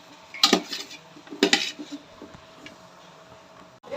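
A metal spoon scrapes and clanks in a pan while spiced masala for dum biryani is stirred, two sharp clattering strikes followed by softer scraping, close and with no talking.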